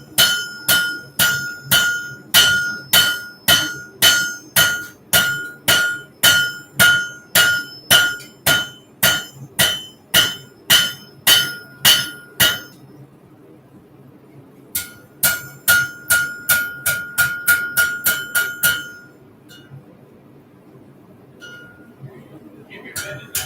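Hammer blows ring out on a hot railroad spike being forged into a knife shape, a fast steady run of loud, sharp metallic strikes, a brief pause, then a second quicker burst before quieting.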